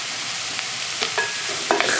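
Finely chopped mushrooms hit a hot pan and fry with a steady, close hiss, broken by a few soft scraping stirs; no one talks.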